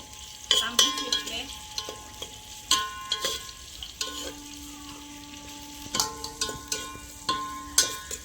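Onion frying in a pan with a steady sizzle, broken up by repeated sharp scraping and clinking strokes as the pieces are stirred, close and fairly loud.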